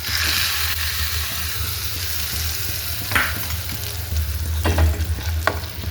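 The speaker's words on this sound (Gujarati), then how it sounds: "પછી લીમડો અને મરચાં ચટણી ઉપર રેડી દેવાનો વઘાર" Hot tempering of curry leaves and chillies poured onto chutney, a steady close sizzle and hiss with a few sharp crackling bursts and stirring sounds, no talk.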